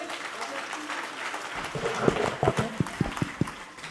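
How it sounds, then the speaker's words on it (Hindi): Audience applause at a company profile presentation for a marketing event, a diffuse clapping wash for the first half giving way to a few distinct louder claps, with voices talking over it. "पवार सर, तालियां होनी चाहिए।"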